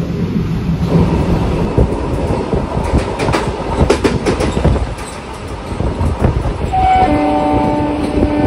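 A MEMU passenger train on the Diva-Khed-Chiplun route rumbles past close by, with steady loud wheel and carriage noise, rhythmic clatter over rail joints and a brief horn-like tone near the end.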